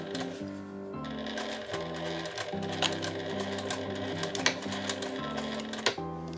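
A domestic sewing machine back-stitches along the zipper of a fabric-scrap pouch, running in short stop-start bursts of rapid mechanical stitching that alternate forward and reverse, close and steady.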